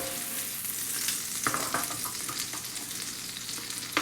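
Shrimp frying in a pan give a steady close sizzle throughout, with a few sharper crackles and stirring scrapes over the constant hiss.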